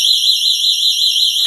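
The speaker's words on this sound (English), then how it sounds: "I'm going to go ahead and switch it to alarm and brace yourself." A GE personal security window and door alarm blares a loud, piercing, warbling electronic siren, continuous and close, with no talk.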